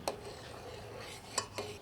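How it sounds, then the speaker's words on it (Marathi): A spoon stirs saffron strands into boiling sugar syrup for sweet-potato gulab jamun. Faint metallic taps against the pot sound at the start and again near the end, over a quiet background. "केशराच्या काड्या घेतल्या बारीक करू त्या घालूया ढवळून घेऊ चांगलं"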